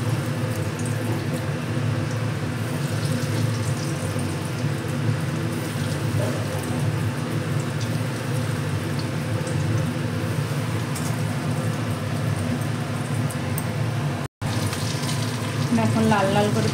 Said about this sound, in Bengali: একে একে আমি এগুলো এবার তেলের মধ্যে ছেড়ে দিচ্ছি।